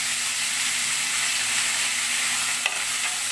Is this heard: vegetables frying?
yes